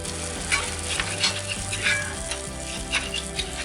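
Butter boils on a hot griddle with a steady, crackling sizzle, fine popping spatters over a continuous frying hiss, close and fairly loud throughout.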